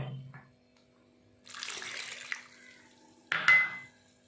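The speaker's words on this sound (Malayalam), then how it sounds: "ഇതിലേക്ക് വെള്ളം കൂടെ ഒഴിച്ചിട്ട് നമ്മൾ നന്നായിട്ട് മിക്സ് ചെയ്ത് കൊടുക്കട്ടെ" Water is poured into a pot of fish curry in two short splashing bursts separated by a quiet gap, close and moderately loud.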